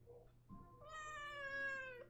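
A pet cat gives one long, drawn-out meow, close and clear, after a brief soft sound, with a faint low background hum.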